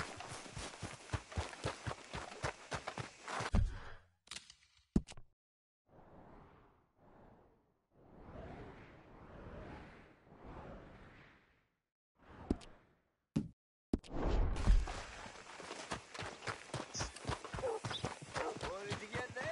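Horse hooves clip-clopping in a video game, a steady run of hoof beats up front before pausing for muffled game voices, then the galloping hooves return loud and close near the end.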